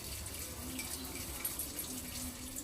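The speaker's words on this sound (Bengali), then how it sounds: "এই চাকি বেলনটা একটু মেজে নিচ্ছি ভালো করে, লুচি বেলা হবে এতে।" Tap water runs steadily over a rolling board and pin as they are scrubbed clean, a soft continuous rush heard alone and fairly faint.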